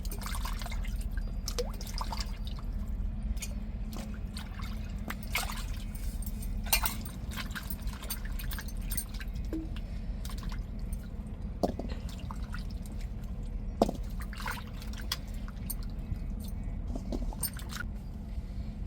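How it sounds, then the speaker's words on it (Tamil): Cut cassava pieces are rinsed by hand in a vessel of water, giving soft intermittent drips, sloshes and splashes over a steady low background, with a few sharper clinks and no talking. "துண்டு துண்டு பீஸாக நல்லா தண்ணியில் அலசிட்டு"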